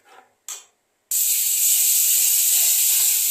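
Water from a bowl hits a hot pan of dried-down masala for tomato fish: two short hisses, then a loud, steady steam sizzle that carries on to the end with no talking.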